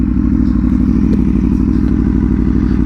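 An Aprilia Tuono motorcycle lands after a jump, its engine droning loud and steady throughout, with a faint dull thud partway through.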